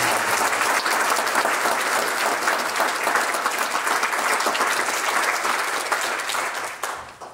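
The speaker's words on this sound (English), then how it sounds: "Please give him a round of applause." Concert audience applause for pianist Craig Terry, a loud, thick burst of clapping that stays strong for several seconds before tapering off at the end.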